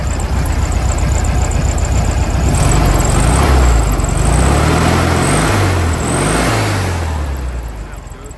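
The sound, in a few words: 1968 Volkswagen Beetle engine running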